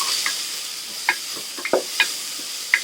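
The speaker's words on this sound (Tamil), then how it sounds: "2 பெரிய வெங்காயம் நல்லா பொடியாக கட் பண்ணி வச்சுருக்கேங்க, அதை போட்டுக்கலாம்" Chopped onions tipped into hot oil with popped mustard seeds and garlic for a chicken gravy, giving a steady sizzle with scattered crackles and clinks of stirring, close and moderately loud, no talk.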